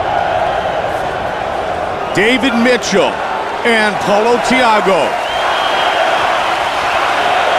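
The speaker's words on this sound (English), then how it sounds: "Wow, listen to this crowd." Stadium crowd at a UFC fight in Rio de Janeiro keeps up a loud, steady roar and cheer throughout, with two commentators talking over it.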